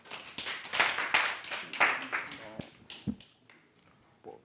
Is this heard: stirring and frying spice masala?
no